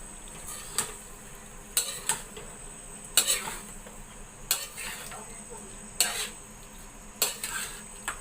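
Chicken being stirred into masala in a frying pan, with about half a dozen distinct scraping clinks of a metal spatula against the pan in an irregular rhythm over a faint sizzle.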